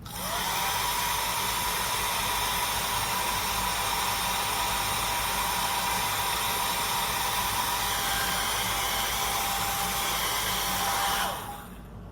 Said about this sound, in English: Let me get my dryer and dry this really quickly.